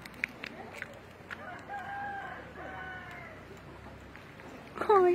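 A hen on a farm in Brazil gives drawn-out, warbling clucks at moderate distance over steady outdoor ambience, with a few sharp knocks early on and a louder call near the end.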